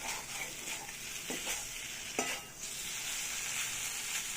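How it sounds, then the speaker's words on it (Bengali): Pumpkin pieces fry dry in a pan with no water, giving a steady close sizzle broken by a few sharp scrape-and-stir knocks of a spatula. "কুমড়োটাকে ভাজা ভাজা করে দিয়েছি।"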